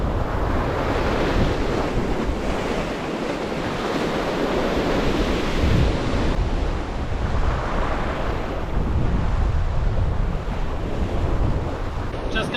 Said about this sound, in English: the wind is just unpleasant